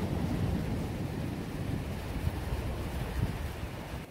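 Sea waves and gusting wind rumble along a shore as a storm calms, the water still murky; a broad, steady roar with low buffeting wind noise on the microphone.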